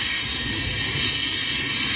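Steady, loud roar of a jet airliner such as an Airbus A320 or Boeing 737, heard from the ground. The broadband engine noise holds constant throughout with no voices.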